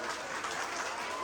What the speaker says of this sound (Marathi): टाळ्या सगळ्यांच्या जोरात वाजल्या पाहिजे.